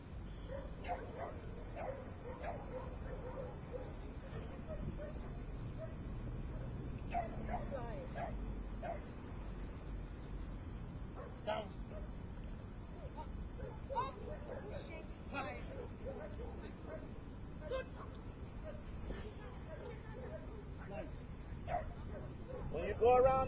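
Dogs bark, yip and whimper intermittently at a dog agility event, scattered sharp calls at moderate distance beneath ongoing speech and crowd murmur.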